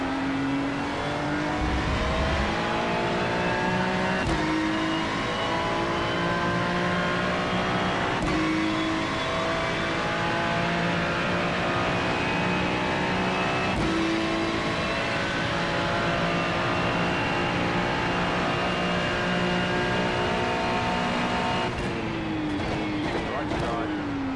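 Ferrari Challenge race cars in iRacing at Interlagos drone through the whole stretch, a steady dense engine note with rising gear pulls and sharp shift breaks every few seconds, loud and close, with a voice talking over it.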